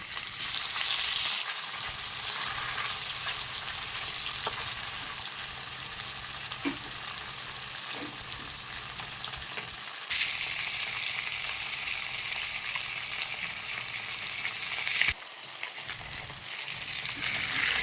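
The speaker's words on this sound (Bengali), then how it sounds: "মাছ এক পিঠ ভাজা হয়ে গেছে" Fish pieces frying in hot oil in a pan, a steady dense sizzle running throughout, with a brighter, louder burst of crackling midway and a few faint clinks, no voices.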